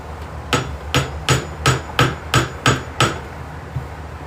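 A hammer strikes a pot about eight times in a steady rhythm, each blow loud and close, with no one speaking.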